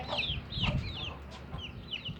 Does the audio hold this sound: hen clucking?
yes